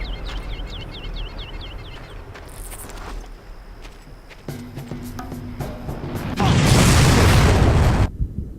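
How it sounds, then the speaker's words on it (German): A rocket launcher blast from a sniper in Far Cry, a loud broadband boom bursting in after scattered gunfire, pops and birdsong, roaring for about two seconds before cutting off. "Das war da der Heckenschütze mit Raketenwerfer."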